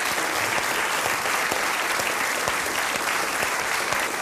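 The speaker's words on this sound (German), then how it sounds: "danke für den Applaus" A cabaret theatre crowd in a small pub venue delivers loud, full applause, a thick, steady roar of clapping from many people that carries on unbroken.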